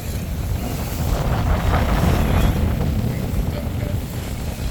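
A sailboat runs fully under sail and close hauled among rocks toward an anchorage, giving a steady, loud rush of wind and water noise that continues without a break.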